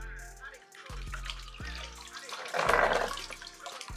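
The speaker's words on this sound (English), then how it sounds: "I have a bucket of water here and I'm gonna dip it in the water" Folded sandpaper plunged into a bucket of water makes sloshing, dripping water sounds close by. The noise swells into a brief louder splash toward the end.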